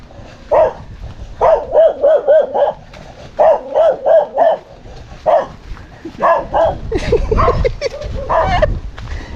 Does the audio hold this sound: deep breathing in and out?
no